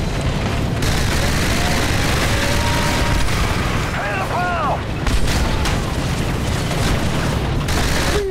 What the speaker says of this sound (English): Oh, I like the grenades. Definitely my favorite.